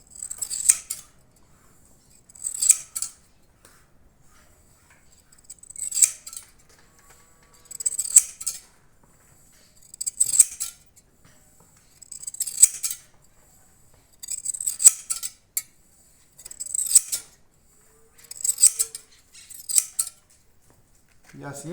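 Scissors clip through a horse's mane while it is being trimmed line by line at an even height, producing bursts of crisp metallic snipping that repeat steadily every couple of seconds, close and fairly clear with quiet gaps between.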